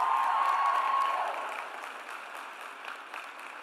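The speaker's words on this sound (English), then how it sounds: "Give them a big hand." Audience applause at a nursing school pinning ceremony, a crowd clapping steadily in a large hall, starting full and gradually thinning out.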